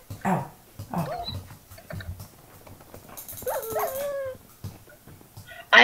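In a survival video game, a dog is hurt and lets out a few short, high whimpers and yips, spaced in quick bursts against a quiet background.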